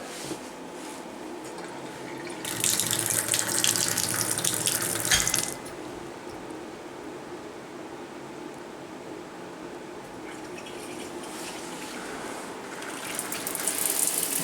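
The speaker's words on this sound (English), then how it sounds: "Not much water pressure, but there is some." Water runs from a tub faucet at low pressure, a steady broadband hiss that swells louder for a few seconds before easing back to a thin, constant flow with no talking.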